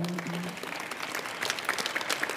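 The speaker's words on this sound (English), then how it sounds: "Can we give Madame Diallo a round of applause there?" Audience applause at a knowledge event, a steady wash of clapping from a mid-sized crowd that swells slightly toward the end, with a faint voice at the start.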